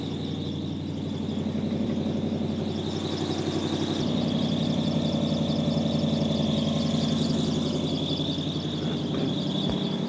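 A Lexus LS400 engine idles fast and steady with a loud, continuous rumble and a persistent high whine on top, no voices; the car has a bad exhaust leak.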